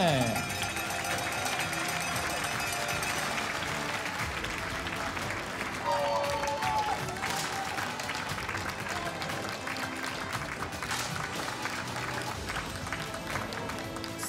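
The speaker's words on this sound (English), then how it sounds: "please give a round of applause for Norway, Jenny Stene" Applause fills an arena at the European Championships 10m air rifle women's final in Wroclaw, Poland, honouring a Norwegian shooter in eighth place. The clapping is broad, steady and moderately distant, with crowd noise and some voices mixed in.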